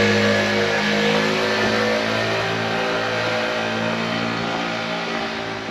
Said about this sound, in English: It's the gas man with his gas bottles.